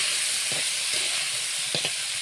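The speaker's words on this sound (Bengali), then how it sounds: "এবার আমরা কড়াইতে সামান্য তেল দিয়ে তার মধ্যে সর্ষে ফোড়ন আর চিড়ে রাখা কাঁচা লঙ্কাগুলো দিয়ে কেটে রাখা টমেটোগুলো দিয়ে ভালো করে নেড়ে চেড়ে নেব" Tomatoes with mustard seeds and green chilies fry in a little oil in a wok, giving a steady loud hiss and sizzle with a few brief spits and pops.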